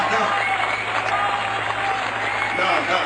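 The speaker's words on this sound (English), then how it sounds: "No, don't be cheering." A live audience claps and cheers after someone says he will sing a song to his wife, a dense, loud wash of applause with crowd voices mixed in.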